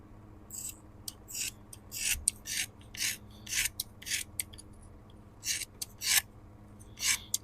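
Scissors cutting a long strip of fiberglass cloth, a steady run of close, crisp snipping strokes, about a dozen over several seconds, irregular in spacing, with no talk.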